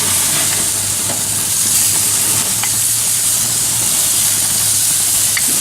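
Ham and pineapple kabobs basted with brown sugar butter sizzle steadily on the heat, a loud, continuous frying hiss with faint crackles and no talking.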